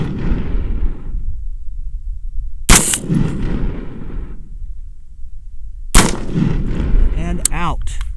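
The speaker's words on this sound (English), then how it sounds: "we just put, I believe, 12 rounds, 9 from one mag and 3 from the first one" An M&P-15 Sport rifle fires while its iron sights are being zeroed outdoors, with two sharp, loud single shots several seconds apart, each followed by a ringing decay.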